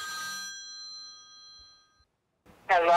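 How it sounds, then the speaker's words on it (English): A BSM55 Sump Minder battery backup sump pump system sounds a phone-call alert, a single clear electronic ring that decays over about two seconds, then a voice begins speaking after a short silence. "In the top left corner, you see that the phone icon is active, which means it's calling."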